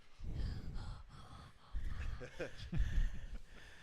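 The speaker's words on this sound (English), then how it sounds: "Sounds like you're breathing in the microphone" Heavy, close breaths rush into a podcast microphone in several gusty puffs, low and rough, with a little vocal sound mixed in.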